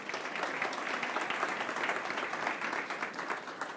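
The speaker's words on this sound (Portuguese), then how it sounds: "Você pode aplaudir o Senhor?" A church congregation applauds together, dense and continuous clapping that holds steady for several seconds at moderate volume with no voices over it.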